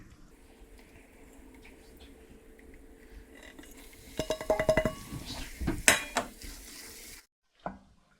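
A spoon scrapes and clinks in a pan while roasted gram flour is stirred with black pepper, cardamom and turmeric over low heat, with quiet scraping then a burst of close metallic clatter.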